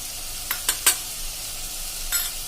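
Garlic, green chili and onion paste frying in a pan with turmeric added, giving a steady soft sizzle with a few distinct spoon scrapes against the pan near the start and one more toward the end.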